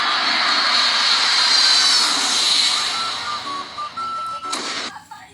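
A steady airplane engine roar in the Roblox video game fills the first seconds loudly, then thins into a lighter whine and drops away near the end.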